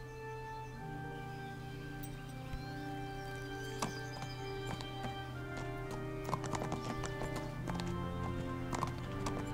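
Horse hooves clip-clopping in the medieval video game Kingdom Come, a steady quick patter of hoofbeats over a low, continuous game background, moderately quiet and without speech.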